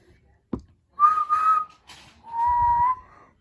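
Whistling imitating impatient toy steam engines in a Thomas and Friends storybook reading: a short tap, then two sharp whistle toots followed by a longer lower toot, close and alone.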